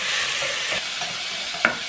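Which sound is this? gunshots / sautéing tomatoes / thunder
sautéing tomatoes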